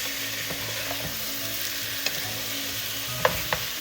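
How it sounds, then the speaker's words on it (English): Pork neck bones sautéing and browning in a pan with salt and pepper, a steady low sizzle with a few sharp clicks and clanks from stirring. "saute it. We're kind of like browning the meat here in a sense."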